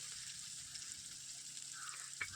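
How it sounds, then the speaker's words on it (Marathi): Tomatoes sauté in a pan for fasting-day sabudana khichdi, giving a steady, moderate sizzle and hiss with a brief stirring scrape near the end and no voices. "टमॅटो टाकू टमॅटोला परतून घेऊ चांगल्या पद्धतीत"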